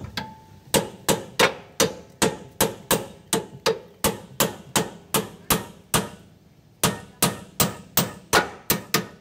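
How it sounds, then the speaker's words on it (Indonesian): Metal hammer strikes on a clamp during replacement of a broken leaf spring, a steady run of about twenty loud, sharp close blows at a regular pace, with a brief pause before the last several hits. "Klaimnya cukup dipalu aja nih."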